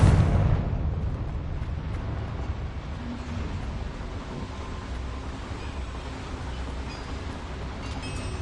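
Confringo spell blast in Hogwarts Legacy, a loud explosive boom at the start that fades into a rumbling, wind-like roar continuing steadily, with no voices.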